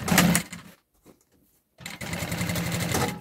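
Sewing machine stitching piping onto a fabric baby bag, a steady close whirring burst, then a pause of near silence before the motor runs again continuously.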